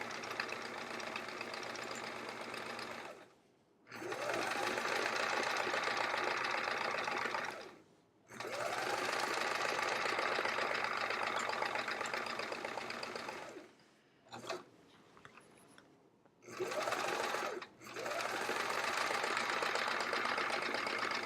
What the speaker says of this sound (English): just find a line on my sewing machine here and sew along that